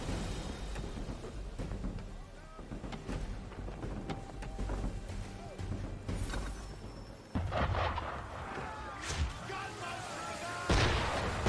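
Cannon fire from a ship aimed at the player in Assassin's Creed III, heavy booming blasts and rumbling impacts that recur over a steady wash of water and game ambience, with a sharp loud burst near the end.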